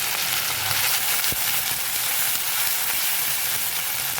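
Masala sizzling steadily as it is sautéed in a pan, a continuous close crackling hiss with faint stirring scrapes and no talk.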